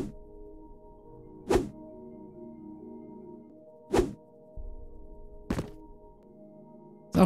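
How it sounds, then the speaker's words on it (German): Lara Croft colliding with a wall in a custom Tomb Raider level: three or four separate dull thuds spaced a few seconds apart, each short and punchy, over a steady layer of soft game music. "Mit ihrer Nase knallt sie da wieder gegen."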